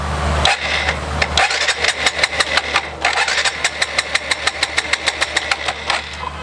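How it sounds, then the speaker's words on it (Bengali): A motorcycle fitted with a Tasslock security lock is cranked by key but fails to start, with a rapid, steady train of starter pulses, close and fairly loud, running for several seconds without catching. "তারপরে যদি আমি চাবি দিয়ে স্টার্ট দেই তারপরও বাইক স্টার্ট হবে না দেখেন"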